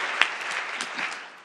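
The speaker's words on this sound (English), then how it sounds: "a round of applause for our debaters here." Brief, fairly quiet applause from a debate audience honouring the debaters, a soft patter of clapping with one sharper clap near the start that fades out within about a second and a half.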